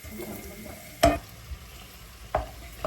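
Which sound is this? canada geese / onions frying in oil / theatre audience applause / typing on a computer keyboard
onions frying in oil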